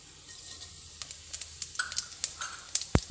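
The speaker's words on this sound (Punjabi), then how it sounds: "ਜੀਰਾ ਆਪਣਾ ਕਲਕ ਗਿਆ ਦੇਖੋ" Cumin seeds sizzling in hot oil, a soft frying crackle with scattered sharp pops and stirring clicks that grow busier toward the end, close and alone.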